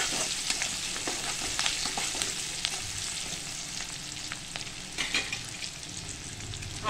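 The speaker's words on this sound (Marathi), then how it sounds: "आता ही फोडणी चांगली आपल्याला परतून घ्यायची" Spices, green chilli, garlic, curry leaves and asafoetida tempering in hot oil for a kurdai bhaji, a steady close sizzle with scattered crackles and pops running throughout, no voices.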